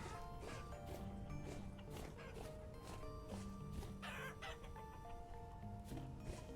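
Chickens in the video game Vintage Story cluck repeatedly in short, irregular bursts, a lively and close flock of fowl chatter with no voices.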